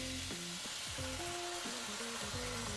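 Pork and sauce sizzle in a pan over medium heat, with a soft, continuous frying hiss and a few light stirring movements. The sound is close but quiet, and nobody speaks.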